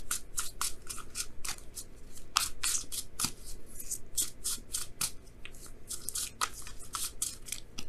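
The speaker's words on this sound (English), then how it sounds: "Let me go ahead and pull an extra card for the Tower." Tarot cards are shuffled and drawn close up: a quick, steady run of crisp papery snaps and riffles with no talking.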